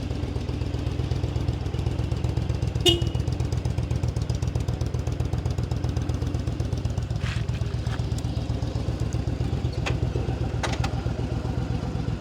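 A Yamaha Drag Star 1100 Classic motorcycle with 12,000 miles idles steadily and evenly nearby, its low, pulsing engine rumble running throughout with a few faint mechanical clicks on top.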